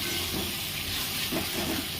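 A pressure cooker full of mutton curry hisses with a loud, steady rush of escaping steam, close and continuous with no voices.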